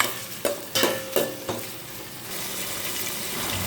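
Onion, tomato, green chilli and cashews stirred in a pan for chicken biryani, with four distinct scraping strokes early on followed by a steady low sizzle.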